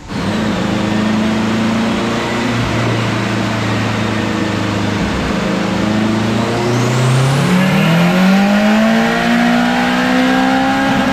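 A turbocharged K24-swapped Honda EK hatchback revs loudly on a dyno at night, its engine note holding steady in low cam before climbing sharply in pitch as it pulls harder, with no talk over it.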